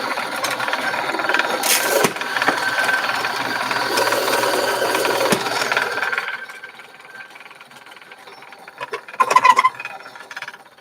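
An electric grinder whirs loudly through coffee beans for a medium grind for about six seconds, then cuts out, leaving quieter rattling and a brief burst of clatter near the end.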